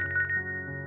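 A phone ringtone chimes in a quick bright run of bell-like tones, then settles into a sustained electronic ring, clear and close with no voices over it.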